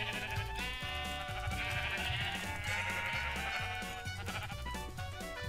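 Sheep bleating in a blocky survival video game, several wavering bleats in a row, loud and close over a steady game background with no talk.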